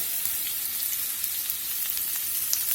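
Sliced onions sizzle in butter and high smoke point oil in a skillet, a steady close hiss with faint crackles running through the whole stretch, no voices over it.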